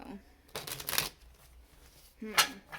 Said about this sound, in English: I'm going to get one more shuffle here